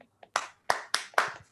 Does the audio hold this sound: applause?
yes